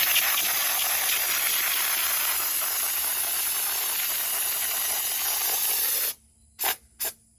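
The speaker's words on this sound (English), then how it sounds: "it does seem to stick a little better when I give it a little distance" Steady, loud hiss of spray foam sprayed from a little distance onto a solar kiln for about six seconds, then it cuts off, followed by two short bursts of spray.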